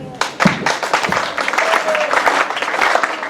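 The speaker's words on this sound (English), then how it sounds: "So please start clapping." An audience at a Janmashtami festival talk claps in a quick burst that grows into continuous, fairly close applause, with voices talking underneath.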